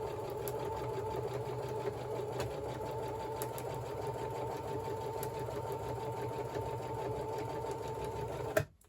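A sewing machine stitches an armoured hoodie with a continuous, even mechanical whirr that holds for several seconds and then stops abruptly.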